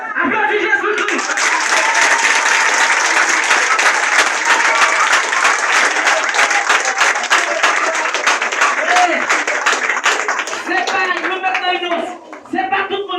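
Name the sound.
crowd applauding in church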